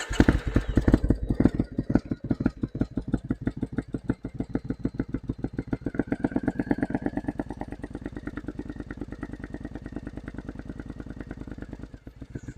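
A 2011 Triumph Scrambler Bonneville motorcycle engine starts and settles into a steady, fast-pulsing idle, loud and close, continuing alone to the end.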